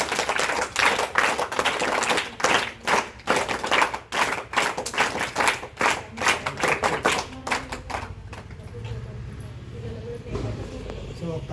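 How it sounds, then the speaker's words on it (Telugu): Audience clapping at a primary school graduation day ceremony, sharp claps in a dense round that thins out toward the end, with talk alongside. "మరొకసారి క్లాప్స్"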